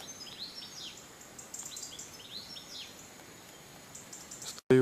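European robins give faint, repeated high chirping alarm calls near their nest of four chicks on a river bank, scattered in short bursts over a quiet outdoor background with no talking.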